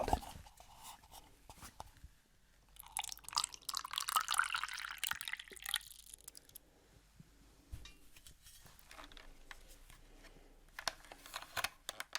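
Water poured from a container into the tank of a steam iron, a bright trickling splash building for a few seconds amid quiet handling noises and fabric rustle, close and soft in a hushed setting.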